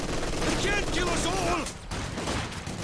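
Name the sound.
machine gun fire in Company of Heroes 2 video game battle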